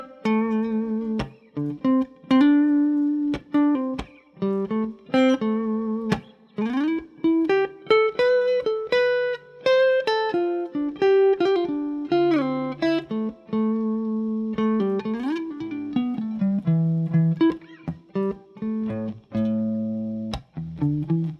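A single guitar runs minor pentatonic scale lines over chord changes, playing clear, close, plucked notes in flowing phrases with short pauses and no talking.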